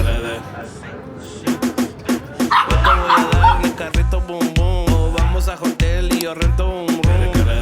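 Dogs bark and yip repeatedly in quick bursts nearby on a street in Buenos Aires, with people talking over them and some tonal sounds in the background.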